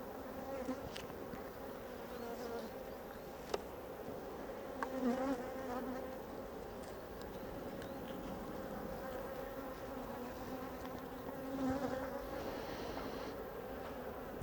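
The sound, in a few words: honey bees buzzing during a hive inspection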